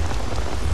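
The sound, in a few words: rain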